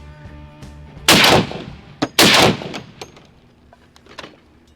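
Two loud, heavy gunshots from a .50 caliber AK-50 rifle about a second apart, each a sharp boom with a long rumbling tail, followed by quieter clicks and mechanical sounds as it cycles.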